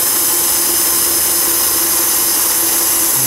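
A power drill whines steadily while boring holes in the body of a 2009 Mini Cooper Clubman during an electric conversion, giving a loud, constant high-pitched hum with no pauses.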